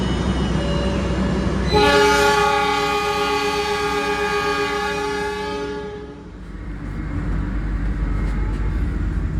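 The Jayabaya train's horn blasts loudly for several seconds at Bangil station with a rumbling rail background, then fades as the train departs and rolls on.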